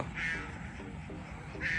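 Ducks quack in an evening orchard of Taiwanese jujube trees, two short nasal bursts near the start and end over a steady hum of ambient background noise.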